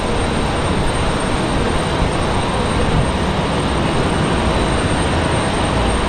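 An American Airlines A321-200 jet arrives at Raleigh Durham airport, producing a loud continuous broadband engine roar that holds steady throughout.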